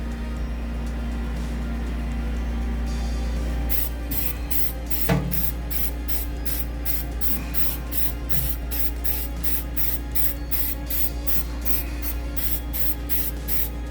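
Spray paint applied inside a microwave oven cavity, a steady hissing spray that gives way to a rapid, regular series of short bursts from an aerosol can, close and loud.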